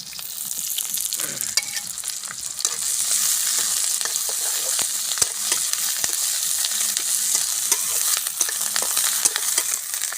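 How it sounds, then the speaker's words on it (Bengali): Malabar spinach stem tips and seeds fry in hot oil, making a loud, continuous, close sizzle with dense crackling and occasional stirring clicks, without any speech. "সেই পুঁই শাকের ডোগার বিচি ভাজি করা হবে"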